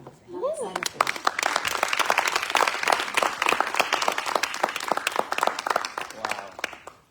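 Audience applause follows a conference talk, a dense burst of many people clapping that swells after a brief voice and tapers off over several seconds.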